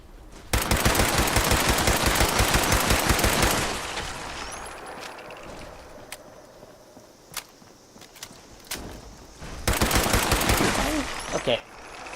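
A Berserker Explosive pipe rifle firing in the video game Fallout 76, with a long rapid burst, a lull of scattered single cracks, then another burst, loud and close.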